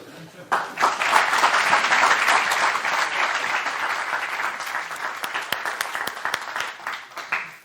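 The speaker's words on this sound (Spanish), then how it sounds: "pedir un primer aplauso inicial para ella" A seminar audience applauds a speaker, Clara Segura, at the start of a talk, dense steady clapping from many people that begins abruptly and holds evenly before easing off, with a few sharper individual claps standing out.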